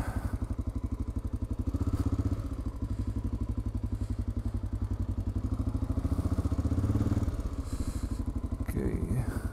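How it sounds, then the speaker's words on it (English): A Honda Dominator motorcycle engine with a clacking fault idles close by with a steady, rapid clacking rhythm, its pulsing beat continuing throughout with slight swells in loudness. "There's a clacking noise in the engine."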